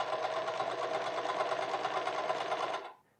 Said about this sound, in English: I can now flip over the lining and sew this bottom edge.